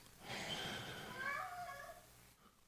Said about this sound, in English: That was the weirdest meow I've ever heard from you, Simba.